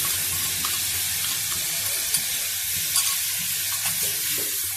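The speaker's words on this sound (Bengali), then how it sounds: "এবার আদা রসুন বাটাটা পরিমাণ মতো দিয়ে দিলাম। এতে 2টো কাঁচা লঙ্কা বাটা দেওয়াও আছে।" Ginger-garlic paste and green chili paste frying in a pan for soya pulao, giving a steady broadband sizzle with a few soft clicks of stirring, close and continuous with no talking.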